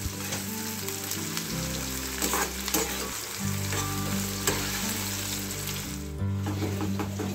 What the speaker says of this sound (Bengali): পেঁয়াজগুলো ভালো করে লাল লাল করে নেব।